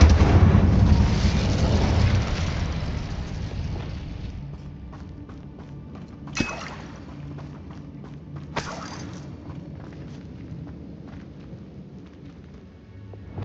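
Confringo and Incendio spell explosions in the Hogwarts Legacy video game: a heavy rumbling blast fades out, followed by two sharp, separate bangs over a low background.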